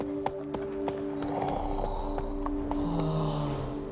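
Horse hooves from The Witcher 3 game clatter in a steady, fairly close rhythm of sharp knocks over a constant droning background, with no talk.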